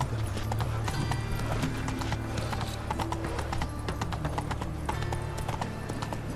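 A horse gallops in The Witcher 3: Wild Hunt with rapid, rhythmic hoofbeats close up and continuous throughout, along with a brief whinny.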